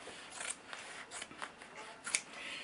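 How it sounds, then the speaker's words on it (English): Scissors snip through the seams of old denim jeans being trimmed even, a few quiet close cuts with faint rustling of fabric, no talking. "So I'm going to cut them even together."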